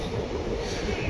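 A train rolls into platform two at Kacheguda station, a steady low rumble of railcars close by that stays even throughout the short stretch without clear speech.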